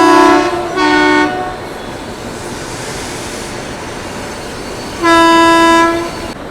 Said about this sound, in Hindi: बहुत सारी गाड़ियाँ रेलवे स्टेशन पर अराइव कर रही है सुबह सुबह